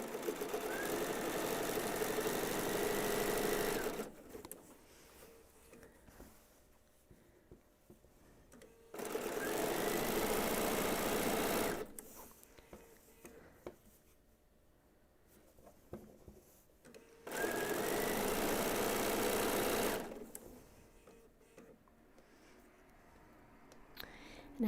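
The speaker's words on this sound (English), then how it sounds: "I'm sewing a wide seam so that I can trim the selvage off." A sewing machine runs a wide seam along quilt backing in three sustained bursts of fast whirring stitching, each separated by quiet gaps with faint handling noise.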